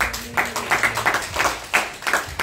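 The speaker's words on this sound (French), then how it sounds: "Applaudissons le Seigneur." A church congregation clapping together in a quick steady rhythm, a dense run of close handclaps lasting a couple of seconds with a hint of voices underneath.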